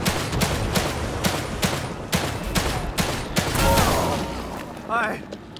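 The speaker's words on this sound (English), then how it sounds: "Looks like I clearly shoot her in the belly." Gunshots in the survival video game The Long Dark, a rapid string of sharp, evenly spaced cracks with booming low ends, loud and close, followed by a short voice near the end.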